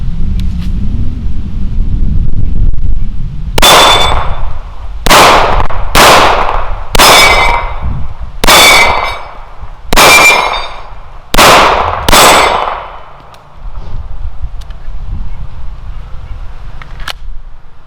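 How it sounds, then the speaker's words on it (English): Pistol shots from a Wilson EDC X9 ring out against a portable steel Texas Star target, eight sharp cracks with metallic clangs at uneven intervals over a low outdoor rumble. "see if I can do it with fewer than 10 shots, again using Wilson EDC X9"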